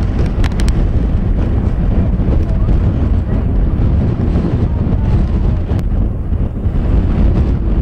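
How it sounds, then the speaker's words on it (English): Heavy, continuous wind buffeting a microphone at an outdoor baseball game, a loud low rumble that roars steadily throughout with no clear voices. "Have I mentioned how windy it is?"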